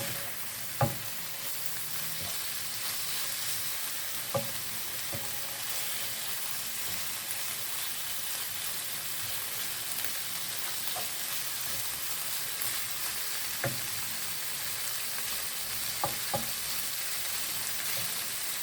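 Smoked bacon and onions fry in a pan with a quiet, constant sizzle, close up, broken by a few sharp clicks and taps of stirring spread through the stretch.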